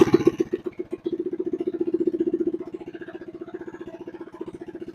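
A mini bike engine with a freshly installed carburetor idles up close in a fast, even putter of pulses that softens slightly partway through, running alone without talk.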